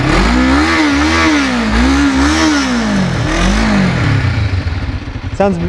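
A new motorbike engine revving close up: loud, rough revs rise and fall in repeated waves, then settle toward idle with a brief clatter at the end.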